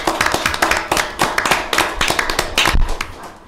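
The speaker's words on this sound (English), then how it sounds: "a round of applause for our NACO graduates" An audience at a county board of commissioners meeting applauds NACO graduates, a brisk burst of many hands clapping close and loud before the sound begins to thin toward the end.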